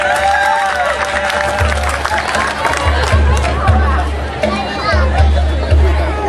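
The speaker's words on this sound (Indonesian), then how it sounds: "Untuk kakanakan tadi tepuk tangan semuanya." A crowd at a Madihin Banjar competition in Rantau, Tapin applauds for the children, scattered clapping mixed with crowd chatter and a few cheers, while a loud low rhythmic thump keeps sounding underneath.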